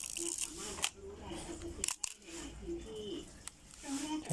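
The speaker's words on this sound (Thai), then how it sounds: "ชัตเตอร์8" A Nikon FA film camera's shutter fires at a speed setting of 8 during a repair test: crisp mechanical clicks in quick succession, quiet and close, over a faint room hum with soft birdlike cooing in the background.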